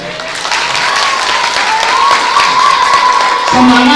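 Audience applause at a Balinese bondres comedy performance in a village banjar hall, steady dense clapping throughout, growing slightly louder near the end with a brief voice or tone rising above it.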